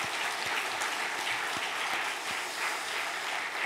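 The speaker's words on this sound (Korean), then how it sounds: "이 아침에 참여한 여러분들을 위해서 박수로 격려하겠습니다." Church congregation applauding during an early-morning prayer service: steady, dense clapping from many hands, moderately loud and continuous throughout, with no one speaking over it.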